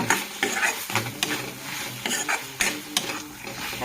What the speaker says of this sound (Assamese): আৰু মৰিকেইটা দি আমি অলপমান এনেধৰণে লৰাই ৰাখিব লাগিব।